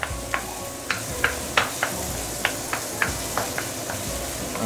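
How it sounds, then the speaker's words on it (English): Aromatics sautéing in a pan for braised chicken with rose cooking wine, a steady close sizzle with about a dozen sharp scrapes and clacks of the spatula at uneven intervals. "So saute this for at least 2-3 minutes."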